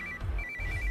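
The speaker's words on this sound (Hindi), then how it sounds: "इस वक्त दीदी का फोन।" A telephone ringtone trills in a repeating pattern over a low background rumble, clear and moderately loud for a brief moment with no talking.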